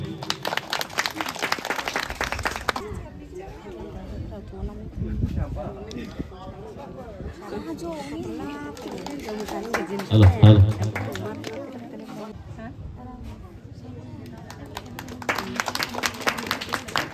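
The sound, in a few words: audience applause at school opening ceremony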